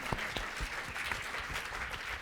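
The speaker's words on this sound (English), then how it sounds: "Let's give them a round of applause." An audience applauds after a talk on documentary cinematography, giving a short, steady round of clapping that sounds fairly distant and soft.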